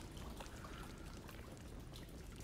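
Water pours and trickles steadily in the Hellblade II video game, a dense, continuous rushing wash that runs unbroken from start to finish with no voices over it.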